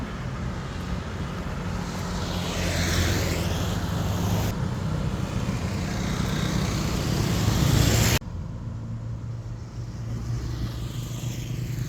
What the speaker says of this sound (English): Lots of cars coming.